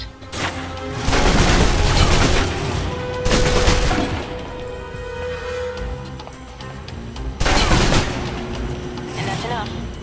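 Submachine gun fire in the video game Alpha Protocol, loud bursts of rapid shots that come in two main volleys with quieter gaps between them, while a voice talks over part of it.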